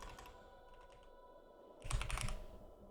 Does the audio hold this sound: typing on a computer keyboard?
yes